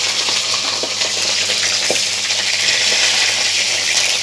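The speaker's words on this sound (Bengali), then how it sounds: "দেখুন আমার কড়াইয়ের তেলটা গরম হয়ে গেছে। এইবার আমি দিয়ে দিচ্ছি আমার মাছের মাথাটা।" Katla fish head frying in hot oil in a wok, giving a steady, loud crackling sizzle with a few sharp pops throughout and no talking.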